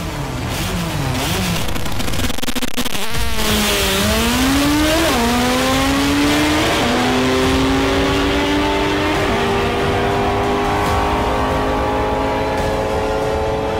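A boosted 2008 Mitsubishi Evo race car engine on a test run, loud and close, revving repeatedly with pitch sweeps rising and falling, then climbing steadily into a long sustained high-rev pull.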